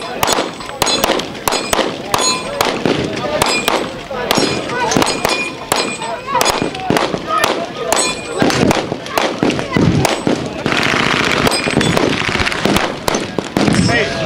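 A compact machine gun fires repeated rapid bursts at an outdoor shooting event, loud and close, with sharp cracks and metallic clangs, and voices can be heard between the volleys.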